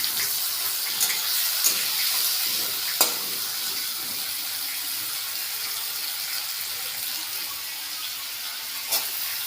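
Bitter gourd frying in a pan, a steady soft sizzle with a few sharp clicks and clatters of utensils scattered throughout.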